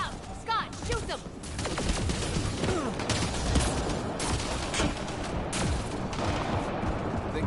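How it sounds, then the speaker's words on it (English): Rapid bursts of gunfire crackle in the video game Mass Effect Andromeda, dense overlapping shots and impacts filling the whole stretch at close range, with voices speaking amid the shooting. "Scott, shoot them!"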